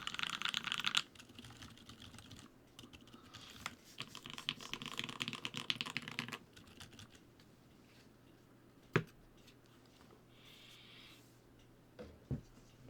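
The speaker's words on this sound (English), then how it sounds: "So let's do some typing together." Typing on a Bauer v2 mechanical keyboard fitted with Boba switches, a dense run of close keystrokes that thins out into a few scattered isolated clacks, with no talking.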